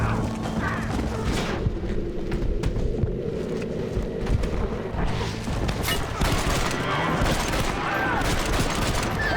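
Gunfire volley in the Western video game Red Dead Redemption, a dense stretch of overlapping shots and mechanical clatter that runs loud and continuous throughout, with talk mixed in at times.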